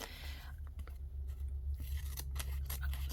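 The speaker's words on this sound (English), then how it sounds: "I keep putting my scissors away" Scissors snip and click softly during a painting and crafting session, with faint intermittent cuts over a steady low background hum.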